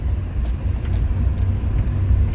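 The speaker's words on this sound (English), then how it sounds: "I'm driving the dually again." A dually pickup truck drives along with a steady, low engine drone and road rumble, close and continuous, with faint ticks and no talking.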